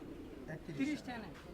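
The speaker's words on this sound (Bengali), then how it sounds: "এই যে এখানে পাইকারি কবুতর বেছে কেনা চলছে" Pigeons coo softly at a busy wholesale pigeon market in Bangladesh, a low burbling call rising briefly amid faint background voices.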